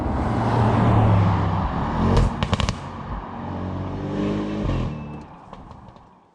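An Audi RS7 engine revs loudly and close through downshifts, its steady roar broken by crackling exhaust pops and bursts.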